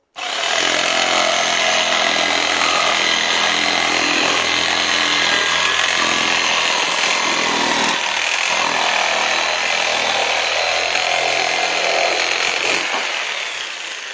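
Parkside reciprocating saw, repaired with a soldering iron, cutting steadily through wood, a loud continuous buzzing drone that runs almost unbroken for the whole stretch with no talking.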